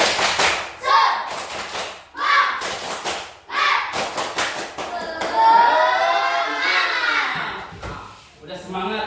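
Students in a classroom perform tepuk semangat, a patterned spirit clap: several loud clapping bursts alternate with group chanting, and the last stretch is mostly voices shouting together.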